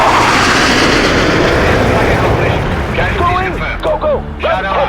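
Incoming artillery fire in the video game World in Conflict, a loud, continuous rumbling barrage of blasts and explosions that gradually thins out while radio-style voices talk over the end.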